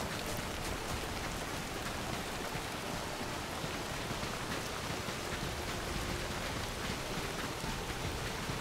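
Continuous heavy rain in the video game Soulmask, a dense, unbroken wash of drops with a steady loud hiss and no voices.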